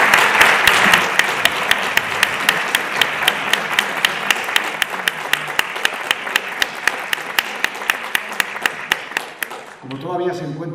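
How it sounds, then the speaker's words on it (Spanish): Loud audience applause at an inaugural lecture, steady clapping from a crowd with sharp individual claps standing out, dying away after about ten seconds as a voice begins speaking. "Pido un aplauso para ella."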